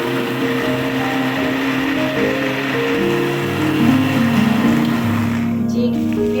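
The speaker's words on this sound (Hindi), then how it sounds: "मिर्ची मैंने डालकर इसको ग्राइंडर में ग्राइंड करूँगी।" An electric grinder blends onions and green chillies for chicken biryani, producing a loud, continuous motor whine close by whose pitch shifts slightly as the contents churn, with no talking.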